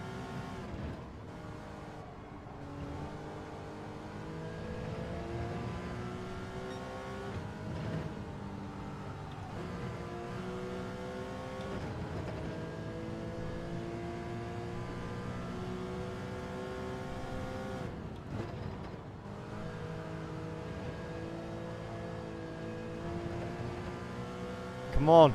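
A front-wheel-drive Volkswagen Scirocco race car in Gran Turismo 7 hums with a steady engine drone whose pitch climbs and falls through repeated gear shifts, moderately loud and continuous, with no voices.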